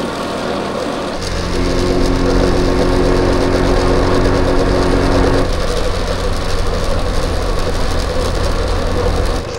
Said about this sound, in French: Dernière balade en scooter à Mae Hong Son du coup.